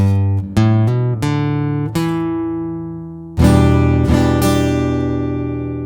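Plucked guitar notes walk upward one at a time to a G, then strummed chords ring out loudly and sustain, close and clear with no talking.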